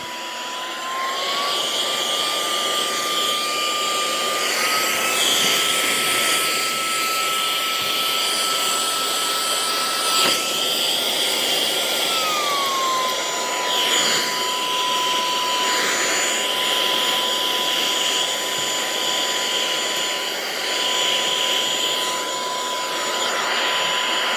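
Vacuum cleaner fitted with a small brush attachment cleans a multi-needle embroidery machine, giving a loud, steady whooshing roar with a high whine that shifts pitch partway through as it is boosted, continuous and close with no talk.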